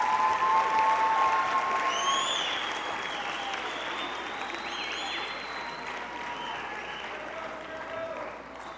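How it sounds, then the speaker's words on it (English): Steady audience applause at a middle school band concert, dense and sustained clapping that gradually softens, with a few whoops and voices mixed in. "Could we give them a round of applause?"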